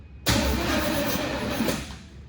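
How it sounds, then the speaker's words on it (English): Starter cranking a freshly swapped Chevy 350 V8: after a quiet moment, loud, steady, close churning starts abruptly and holds for about two seconds before easing off, with no voices. "I wonder if the starter gonna crank this motor"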